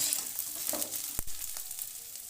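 A soft, steady sizzle of capsicum and onion frying in a pan, interrupted by one sharp knock of a utensil.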